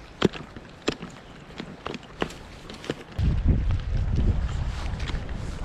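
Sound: wind

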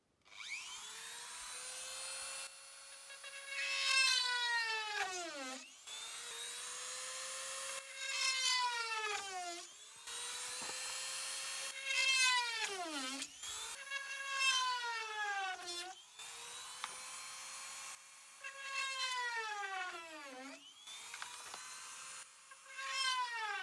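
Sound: drilling into wood

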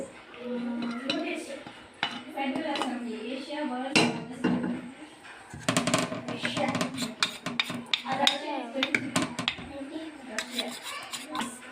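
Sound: mixing ragi and rice flour dough in a pot

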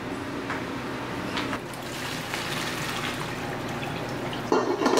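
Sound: draining cooked bow tie pasta water in sink

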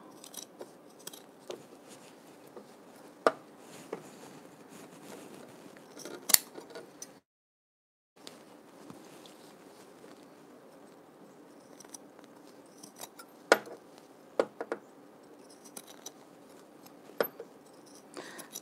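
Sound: scissors trimming wool sweater fabric

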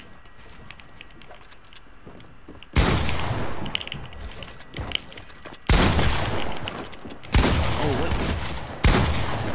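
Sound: gunfire in the Fortnite video game

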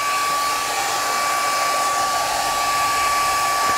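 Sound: hair dryer blowing

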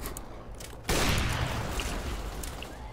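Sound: Desert Eagle pistol gunfire in a video game

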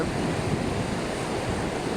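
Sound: sea waves on the beach

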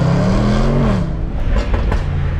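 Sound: Range Rover SVR 5 litre V8 engine and exhaust

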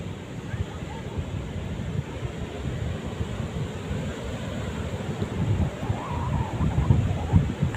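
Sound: cool wind blowing at a beach

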